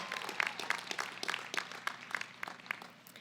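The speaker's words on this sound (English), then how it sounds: "Let's give them a round of applause and thank them for the incredible work they do to get you here today." A graduation ceremony audience claps in a steady, moderately distant wash of applause, with irregular individual claps standing out and no talking over it.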